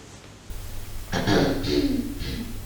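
A few rough coughs or throat-clearing sounds close by, following a brief quieter moment. The bursts are loud and hoarse, with no words spoken.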